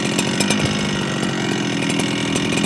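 A Holzfforma G395XP chainsaw runs at idle, a loud, close, continuous buzzing engine putter that holds steady throughout the short stretch.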